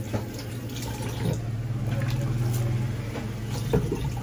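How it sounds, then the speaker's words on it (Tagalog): Water drains off raw chicken before cooking, a faint trickling and splashing over a low steady hum in a home kitchen. "Tanggalin natin yung tubig na galing sa manok"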